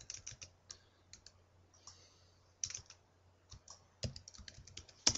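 Typing on a computer keyboard at a command prompt, entering the ipconfig command: a string of sharp, quiet key clicks in uneven bursts with short pauses, close and alone over a low steady hum.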